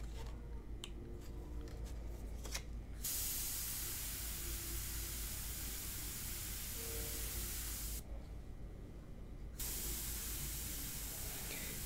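An airbrush sprays India ink onto paper for a portrait painting, giving a close, steady hiss in long bursts separated by brief silences, with no one speaking.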